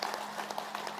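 A crowd at a live yoga session claps loudly and continuously, many hands striking in a dense, uneven patter that sounds like applause with no pause.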